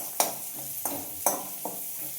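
Onion and garlic fry in hot oil with dry chillies, bay leaf and five-spice for a cabbage curry, giving a steady close sizzle broken by four sharp scraping stirs of a spatula in the pan.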